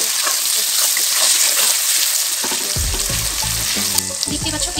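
Sliced onions with a pinch of whole cumin seeds sizzle steadily in hot oil in a home kitchen pan, a loud continuous fry with stirring scrapes and clatter joining in partway through.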